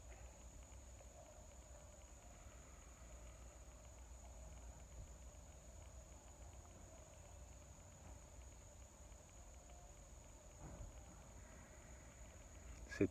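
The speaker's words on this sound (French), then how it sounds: "C'est des grillons, il me semble" Faint, steady high-pitched cricket chirping fills a quiet outdoor night, continuous throughout with a soft low rumble underneath.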